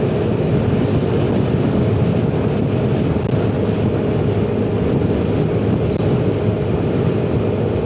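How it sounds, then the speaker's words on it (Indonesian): Strong wind roars steadily across a microphone on a motorcycle riding along a toll-road-like route toward Soekarno-Hatta Airport, a loud, continuous low buffeting that stays unbroken throughout with no talking. "Dan ini jujur anginnya kenceng banget,"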